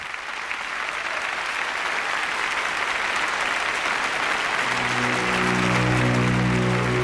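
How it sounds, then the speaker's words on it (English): Sustained, dense applause for Stalin from a large crowd, steady and unbroken for the whole stretch, with a low droning tone rising beneath it toward the end. "no one dared to be the first to stop clapping for Stalin"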